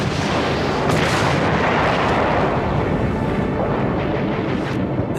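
World War I artillery fire roars continuously and loudly, a dense rumbling barrage of booms and blasts blending into a heavy wall of noise with no voices.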